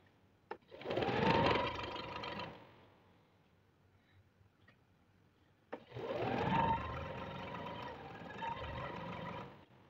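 Two bursts of close, loud sewing machine stitching on salwar fabric, each about two seconds long and separated by a quiet pause.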